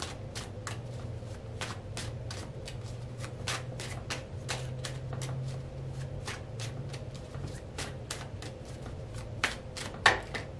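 Tarot cards shuffled in steady rapid riffles for about ten seconds, the crisp flicks repeating close to the mic over a low background hum, with a sharper snap near the end.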